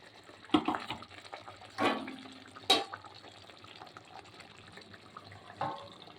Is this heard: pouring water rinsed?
yes